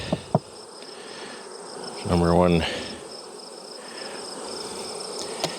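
Honey bees buzz around a hive in a low, continuous drone, with a short loud burst of nearby buzzing partway through and a few faint knocks; a voice speaks briefly.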